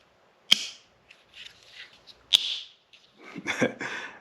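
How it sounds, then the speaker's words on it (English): Two sharp, loud clicks about two seconds apart as a wiring harness connector snaps into a headlight on a VW Golf MK4, followed by softer rustling and handling noise of the plastic parts. "let's see how satisfying the snap-in is"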